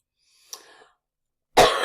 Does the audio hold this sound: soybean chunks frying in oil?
no